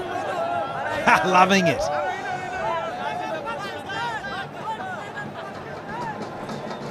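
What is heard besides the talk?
cricket stadium crowd chatting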